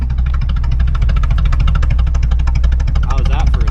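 A 1986 Chevrolet Suburban engine runs rough at idle, a loud, continuous low rumble with an uneven knock that carries through the whole stretch, with a brief voice near the end.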